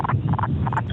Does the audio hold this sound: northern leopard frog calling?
yes